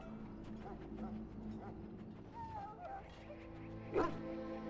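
Dogs whimper and yip softly in the Korcari Wilds of the fantasy game Dragon Age Origins, thin whines rising over a low ambient drone with a brief louder thud near the end.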